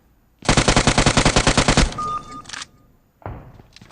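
Automatic gunfire in the shooter game PUBG Mobile, a rapid loud burst of about a dozen evenly spaced shots, then a short pause and a second, briefer burst near the end, with no speech.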